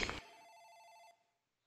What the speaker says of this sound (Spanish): It's the phone in the office ringing.